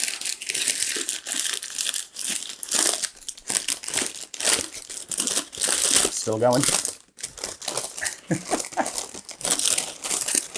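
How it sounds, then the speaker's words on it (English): Paper wrapping being torn and crumpled off a Clynelish Select Reserve whisky bottle, with loud, close, irregular crinkling bursts and someone speaking briefly. "Before we unbottle, let's unwrap, shall we?"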